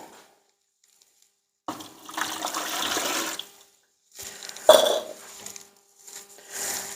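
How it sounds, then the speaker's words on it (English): Short bursts of water pouring and splashing into a bucket, with brief gaps between them, close and moderately loud. "So we'll pour the water in."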